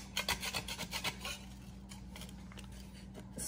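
A door mat stuck to an acrylic-coated concrete floor being scraped, with rough, raspy strokes repeating rapidly at first, then a softer, steadier rub, close by and moderately loud.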